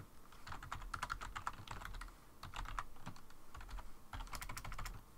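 Fast, continuous clicking of keys on a computer keyboard in close bursts with brief pauses, with no talking during the typing.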